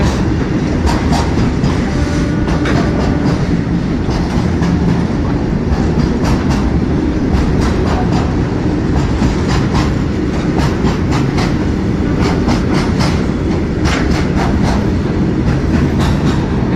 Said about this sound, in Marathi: खूप मोठी ट्रेन आहे एवढे मोठे टँकर एकटी ट्रेन उचलते